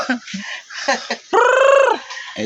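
A hen settling into her new coop gives a clear, drawn-out vocal call with strong harmonics midway, set among shorter clucks and scattered background sounds.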